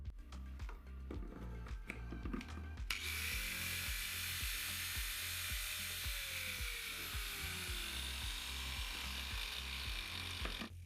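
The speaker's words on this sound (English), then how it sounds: "The angle grinder works too." Angle grinder running on power from a backup inverter, starting with a sharp surge and then holding a steady, loud, high-pitched whine, with a slowly sagging tone beneath it and a repeating low thumping throughout.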